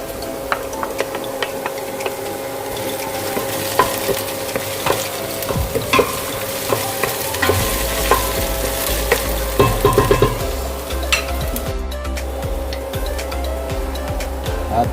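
Garlic sizzles steadily in a hot pan while a utensil stirs and scrapes it in a home kitchen preparing Bisaya-style beef asado, with repeated clanks over the continuous frying hiss.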